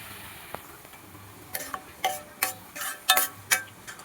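Chopped onion is stirred and roasted in a pan with a soft sizzle, broken by a run of sharp spatula taps and scrapes against the pan.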